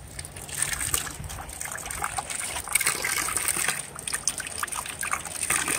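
Mineral spring water gushing and trickling steadily outdoors at Saratoga Springs, a continuous splashing flow close by with no talking.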